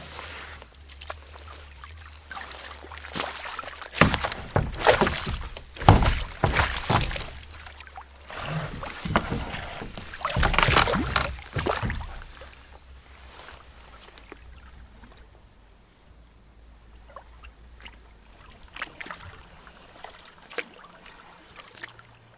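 A solo canoe paddled on a lake in the far north gives irregular splashes and water swirls, with strokes grouped in several bursts and then quieter dripping and occasional knocks, fairly close, with no talk.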